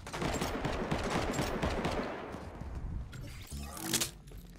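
Rapid gunfire from a Fortnite match, dense bursts of shots crowding the first half and thinning out later, with a sharper burst near the end; no one talks over it.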